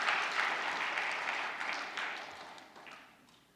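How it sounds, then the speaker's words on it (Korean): A church audience at a Korean Old Testament Bible study session claps in applause, a dense steady patter of many hands that carries on for several seconds and gradually fades. "우리 박수 한번 쳐줘요"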